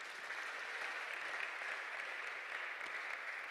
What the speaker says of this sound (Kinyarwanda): Duhe Imana amashyi atubutse.